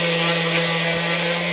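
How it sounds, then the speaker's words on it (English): A small 5-inch orbital sander fitted with 220-grit sandpaper runs over wood, giving a steady, even whirring drone with a strong constant hum. It holds for the whole moment, close and unbroken, with no voices. "I use a little 5-inch orbital sander, just with some sandpaper on"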